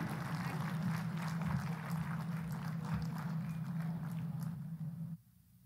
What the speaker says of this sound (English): please give a big round of applause to all these wonderful winners.